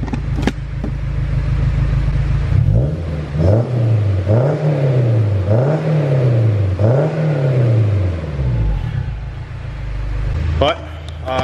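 A turbocharged Honda S2000 engine idles loudly up close, then rises through four quick revs in a row, dropping back each time before settling to a steady idle.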